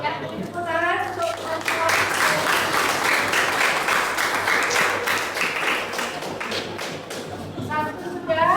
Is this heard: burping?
no